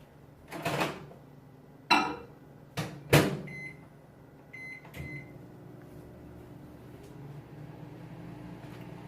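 A microwave oven melting butter starts up with a few loud clunks and beeps, then settles into a low, steady hum that runs on alone.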